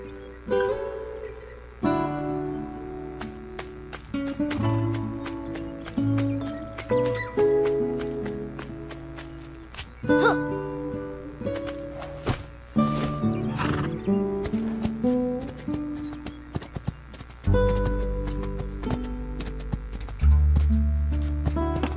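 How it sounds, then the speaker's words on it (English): A horse gallops with clip-clop hoofbeats and whinnies in the video game Spirit Lucky's Big Adventure, set over steady background game music with a louder neigh late in the sequence. "Giddy up, Spirit"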